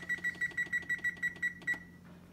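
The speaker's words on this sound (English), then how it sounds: "and then set a timer for" An oven's electronic timer being set while seasoning cast iron, giving a rapid run of about ten sharp, evenly spaced beeps up close before it stops, with a low hum beneath.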